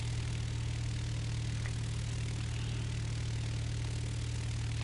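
An aircraft engine in the X-Plane flight simulator hums steadily during landing, a constant droning tone with a faint hiss above it, sounding even and unbroken throughout.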